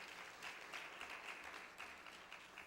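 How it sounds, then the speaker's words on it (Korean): Church congregation clapping in applause, a steady, dense wash of many hands sustained throughout, fairly faint and distant. "주님께 영광의 박수를 올려드리겠습니다"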